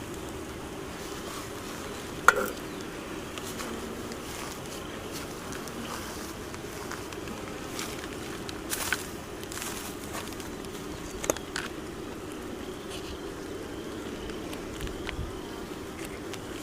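Bees from an opened backyard hive, several carrying pollen on their legs, buzzing in a steady low drone close by, with a few faint knocks and rustles over the continuous hum.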